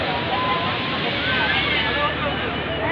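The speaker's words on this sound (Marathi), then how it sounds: "वाव समुद्र" Sea waves and wind along the shore at Ganpatipule, a continuous broadband roar of surf and gusting wind buffeting the microphone, with faint crowd babble mixed in.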